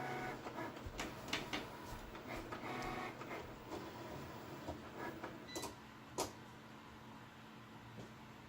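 Cricut cutting machine working on cardstock for a gift card holder, a faint mechanical whir with small clicks and shuffling movements, quiet and close, carriage sounds rising and pausing over several seconds.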